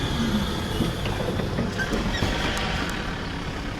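A tram rolls through Warsaw with a steady, loud rumble of wheels on rail and faint clacks and squeals, heard from inside the car.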